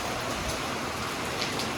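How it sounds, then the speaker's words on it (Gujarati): Steady rain falls across a rural village during a thunderstorm, a continuous dense hiss of drops with no voices, moderately loud and even throughout. "હે જોઈ છે ને વરસાદ?"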